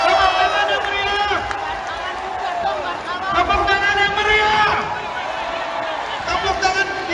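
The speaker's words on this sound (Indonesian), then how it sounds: "Tepuk tangan yang meriah" Crowd of Jokowi supporter volunteers at a halal bihalal event at GBK with Ganjar Pranowo, a loud continuous swell of cheering and clapping mixed with shouting voices.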